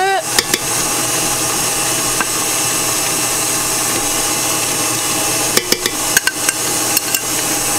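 An electric mixer beats ricotta cake batter with a steady loud motor drone, punctuated by sharp clattering knocks of the beaters against the bowl near the start and end.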